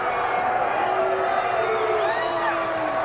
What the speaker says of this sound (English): as you could hear by the crowd's response to that, they were not too pleased over what just happened